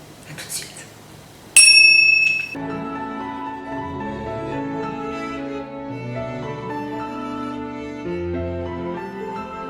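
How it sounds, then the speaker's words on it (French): A small bell gives a bright ringing ding after a short soft rustle, then a gentle melodic tune with chiming tones follows and continues steadily. "Attention, petite cloche, les petites clochettes, c'est parti."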